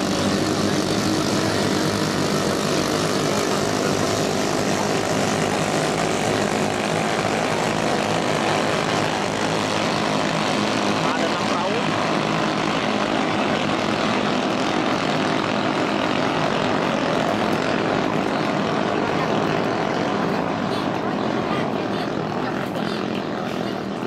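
Racing boats roar past at a boat race on a river in Malinau, their engines forming a dense, continuous, loud drone that holds steady throughout, with faint voices mixed beneath.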